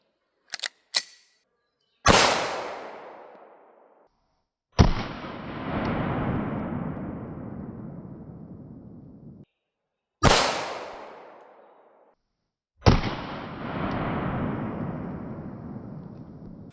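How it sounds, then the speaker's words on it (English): 9mm 115 grain full metal jacket rounds fired at 3D printed PETG and PLA armor plates, four sharp loud shots with long ringing decays, preceded by a few small clicks. "Next up, I have a 115 grain full metal jacket 9mm."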